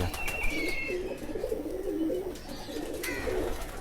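A black Kale chapdar pigeon held in a hand gives soft, repeated throaty coos at close range, with light handling noise and faint background sounds.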